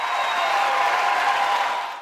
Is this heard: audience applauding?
yes